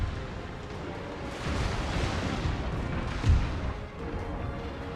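Cannon shots fired at ships during a naval battle in Napoleon Total War, a steady rumble of overlapping booms with one sharper, heavier blast near the end, with no speech.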